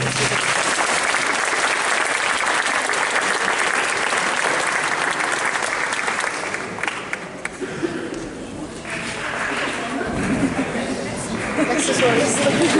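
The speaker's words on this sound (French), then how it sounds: "vous pouvez les applaudir" A crowd at a cosplay contest applauds in a long, dense burst of clapping that thins out midway, then swells again with voices and chatter mixed in toward the end.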